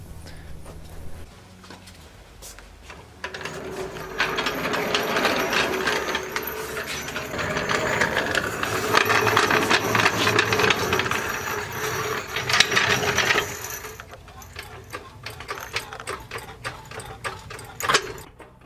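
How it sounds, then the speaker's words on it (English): A jack raises the transmission under a 1952 GMC 3100 pickup during a 5.3 LS swap in a garage, a repetitive ratcheting mechanical clatter that builds and runs for several seconds, then stops. "if I go ahead and grab that jack and get the transmission jacked up a little bit"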